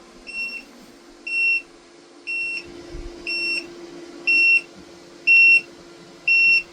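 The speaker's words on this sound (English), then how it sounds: "I just plugged in the tire monitor and it is now beeping because the inside passenger tire is low." An RV's tire pressure monitor beeps at a steady pace for a low inside passenger tire, about seven short high-pitched double-tone pulses, clear and close, over a low engine hum.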